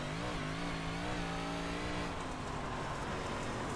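A 358 modified race car engine roars steadily at high revs on a qualifying lap at Lernerville in a sim racing game, pitch climbing then holding before easing slightly.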